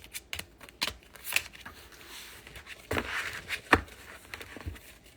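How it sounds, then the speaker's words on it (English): A deck of tarot-style cards being shuffled by hand indoors, a string of soft, uneven riffles and crisp flicks, close and fairly quiet, with short pauses between bursts. "I'm just trying to shuffle these up"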